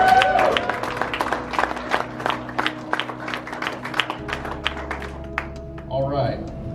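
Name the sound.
applause for winners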